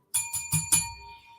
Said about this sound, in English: bell ring of the night